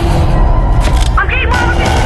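Gunfire in the VR video game Animal Company, a sharp crack and boom under excited talk from a player, with a continuous loud game din throughout.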